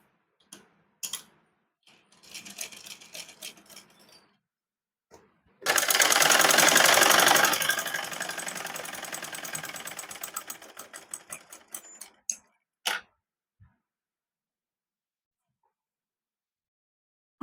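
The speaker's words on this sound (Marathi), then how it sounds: "मी आधी शिलाई करून घेते आणि नंतर ते कापून टाकते" An electric sewing machine stitches a seam on a maxi dress: a few short taps and bursts, then a dense, rapid whirring run of stitching lasting several seconds before it slows into scattered clicks and stops, with silence at the end.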